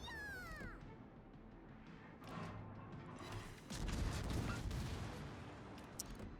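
Defensive anti-aircraft fire from the cruiser Elbing in a naval video game, a faint continuous crackle of rapid distant gunfire layered with booms, quiet overall.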